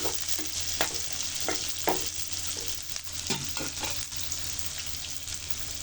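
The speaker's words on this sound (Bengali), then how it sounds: "শুটকির সাথে পেঁয়াজ রসুনটাও ভাজা হয়ে যাবে" Dried ribbonfish (churi shutki) fries with onion and garlic in a pan, giving a continuous close sizzle. Repeated scraping strokes of a stirring spoon punctuate it.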